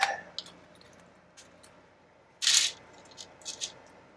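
Small screws from a kit of parts for an MT48 2.0 model, with a wheelie bar, rattle and click in a bag during unpacking: sparse light ticks, then one louder rustling shake and a few brief rattles, close and quiet.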